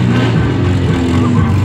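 A car engine roars and revs hard as the driver struggles to keep the car under control in mud at a motor show in Saint-Pourçain, with a loud, close, continuous growl.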